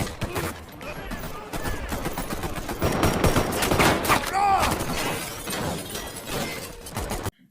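A shootout between SWAT officers and bank robbers bursts with rapid, dense volleys of gunfire, loud and close, mixed with shattering and impact crashes that run for several seconds before cutting off.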